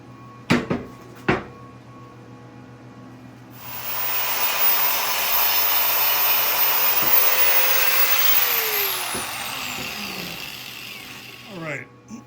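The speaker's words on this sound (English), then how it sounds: "now I'm just gonna grind that down and see what we end up with" An angle grinder grinds down weld tacks on a rare Maytag engine part: a few sharp metal clanks, then a steady loud hissing grind for about seven seconds that tapers off, followed by more clatter.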